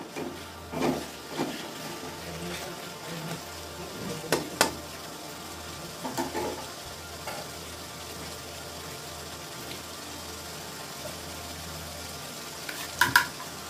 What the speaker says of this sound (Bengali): টমেটো কুচিগুলো দিয়ে একটু ভেজে নেব বন্ধুরা